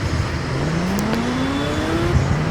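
A Ninja H2R motorcycle in the Indian Bike Driving 3D game hums loudly with a rising engine tone that climbs steadily, then dips and starts climbing again, under a steady noisy backdrop.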